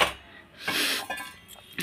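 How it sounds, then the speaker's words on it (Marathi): Dishes and pots clatter in a home kitchen, a few short clinks and knocks in quick succession over about two seconds, close by and moderately loud with no speech. "भांड्यांचा आवाज येत असेल ना, सॉरी फॉर द नॉईस."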